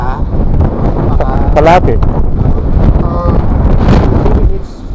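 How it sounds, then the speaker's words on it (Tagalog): Strong mountain wind buffets the microphone on a hike toward a high point in Buguias, Benguet, a steady roaring rush that persists throughout, with people talking over it. "Malakas yung hangin."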